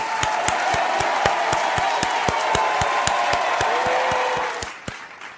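A small group of people claps in a steady, rhythmic beat alongside cheering and crowd noise, the applause continuing for several seconds before dropping away into quieter room sound.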